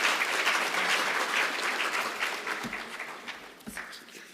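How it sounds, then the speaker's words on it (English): An audience at an African engineering conference applauds, a thick wash of clapping that fades gradually, leaving a few scattered late claps near the end. "A round of applause for Professor Taylor."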